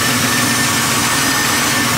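A 1973 Chevrolet Impala's Small Block Chevy 406 V8 idles steadily nearby, a continuous mid-low engine drone with broadband noise and no voices, as it warms up while suspected of rocker arm noise.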